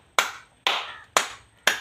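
Four sharp, loud hand claps, evenly spaced about half a second apart and close to the listener, made during a record attempt with no talking.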